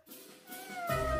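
A cat meows in a house, a short rising call followed by a louder, drawn-out meow, close and alone with no talk over it.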